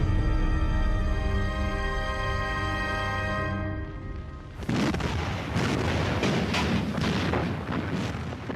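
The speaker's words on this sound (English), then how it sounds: "Allied battleships begin a full-scale bombardment of the German positions." Heavy battleship artillery pounds German bunker positions on the Atlantic Wall, a dense rumbling barrage of booms and blasts that breaks in loudly midway after a sustained tonal hum, continuing as repeated heavy impacts.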